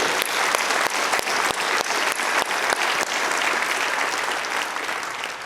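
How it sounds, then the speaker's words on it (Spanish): A church congregation applauds loudly and steadily, a thick wash of many hands with a few sharper individual claps standing out, fading slightly toward the end with no speech on top. "Dale un fuerte aplauso a Él."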